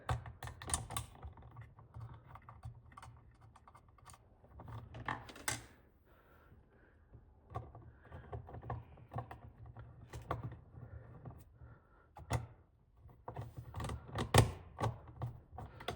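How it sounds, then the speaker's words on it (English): Screws being fitted into a Nutone Verandah Deluxe ceiling fan: close, irregular clicks, taps and small metallic scrapes scattered over about sixteen seconds, with no talking. "So now I'm going to put these screws in."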